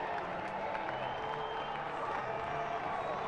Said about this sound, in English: So the crowd here at BB&T Point making some noise for the first time tonight.